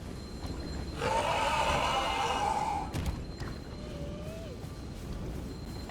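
A horse in the video game Elden Ring gives a loud, drawn-out whinny lasting about two seconds, rising over steady game ambience and then fading. A softer rumble and a brief thud follow.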